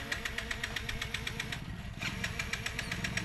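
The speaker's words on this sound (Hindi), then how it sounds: "देखिए, गाड़ी स्टार्ट हो गई है" A motorbike engine fitted with a helmet-linked ignition lock catches and settles into a steady, fast-ticking idle with regular mechanical clatter, loud and close, and no talk over it.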